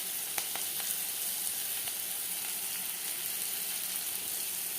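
Curry leaves hit hot oil in a pan for tomato pulao, giving a steady, close frying sizzle with light crackles scattered through it and no voices.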